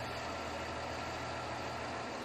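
Steady engine drone of a Jetstream waterblast unit idling at reduced throttle, a constant low rumble with no change across the short stretch and no voices.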